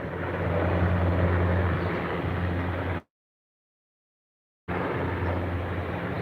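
Black helicopters flying overhead, a steady broad engine and rotor roar that drops out abruptly to silence for a moment before resuming at the same level, with no voices.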